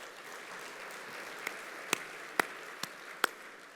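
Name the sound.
audience applause at chamber of commerce event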